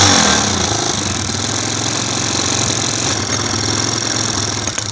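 A Chinese motorcycle engine runs steadily after a kick start, a continuous close-up mechanical drone with a rapid knocking pulse, loud throughout with no talking.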